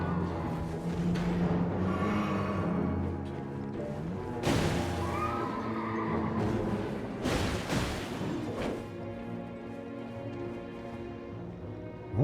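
Horse neighing and whinnying inside Elden Ring gameplay, mixed with combat whooshes and crashing impacts during a mounted fight, the calls rising over a busy game soundtrack.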